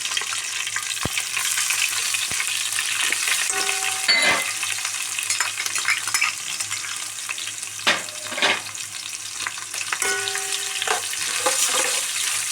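Green chillies and crushed shallots fry steadily in a pan for a chilli fish curry, a continuous sizzle with a few stirring scrapes and clinks, close and alone without talk.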